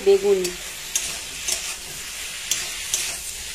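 Eggplant is stirred into a pan of frying spice masala with turmeric and green chili, with a soft steady sizzle and a few light scraping clicks; a brief voice sounds at the start.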